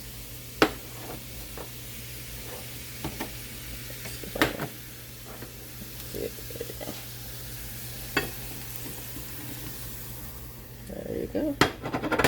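Sauteed North Georgia Candy Roaster squash is scooped from a pan, with scattered utensil clacks and scrapes over a low background sizzle and a few spoken words near the end.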